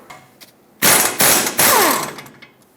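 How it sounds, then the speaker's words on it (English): Ratchet with a 21mm socket cranking out the caliper mounting bolts on a Ford E-350 front brake, three quick loud bursts of rapid clicking close by, with no talking. "Use a 21mm socket, remove the 2 mounting bolts that hold the caliper and bracket assembly onto the knuckle"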